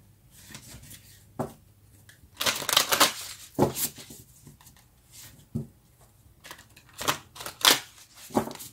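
Oracle cards being shuffled by hand in quick, soft riffling bursts separated by short pauses, close and fairly quiet.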